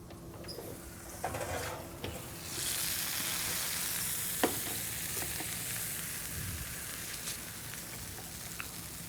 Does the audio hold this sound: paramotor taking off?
no